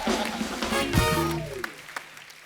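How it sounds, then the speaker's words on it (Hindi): A studio audience at a TV comedy show bursts into loud applause that peaks quickly, then fades away over a couple of seconds while a voice speaks through it. "एक बार विकी डोनर के लिए जोरदार तालियां हो जाए"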